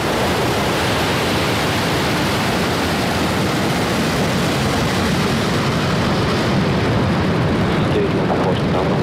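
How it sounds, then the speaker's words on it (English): SpaceX Falcon 9 rocket lifting off on the SAOCOM 1B mission from the East Coast, a loud, continuous broadband roar that holds steady throughout. "Ignition. And liftoff of Falcon's first East Coast polar launch"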